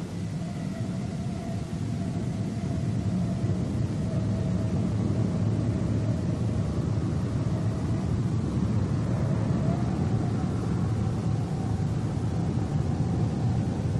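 The jet engines of a Boeing B-47 Stratojet bomber give a continuous, broad roaring rumble with a faint steady whine, unbroken and fairly distant.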